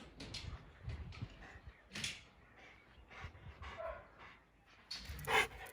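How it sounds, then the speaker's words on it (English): German Shepherd in a police-style K9 aggression and muzzle-attack training session, with scattered barks, yips and panting spread through the scene, moderately loud over a noisy background, with a sharper burst near the end. "if you've asked that dog to bark, that dog should bark"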